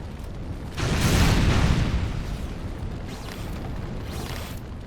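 Explosions tear through a ship in Halo: Combat Evolved, a heavy rumbling boom swelling in near the start, then a lingering roar with fainter bursts after it. No one speaks.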